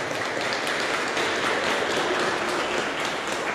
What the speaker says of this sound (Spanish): Vamos a darle un fortísimo aplauso a Jesús.